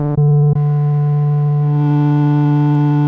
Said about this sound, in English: this one uses 8 drone motors spinning at audio rates, and through the magic of electromechanical engineering, these generate tones